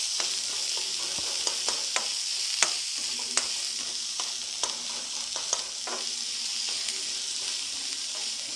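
Small onion being stirred as it fries in a pan: steady bright sizzle throughout, with the utensil scraping and clicking at irregular intervals.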